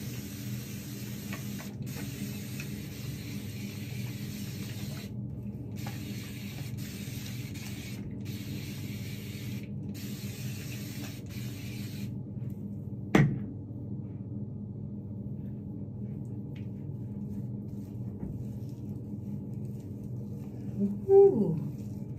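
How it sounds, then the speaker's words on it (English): A spray bottle spritzes deep conditioner onto hair in a run of close, soft hissing bursts with short pauses between them, followed by quiet handling noises and a few faint knocks. "let me just spritz this side a little bit more."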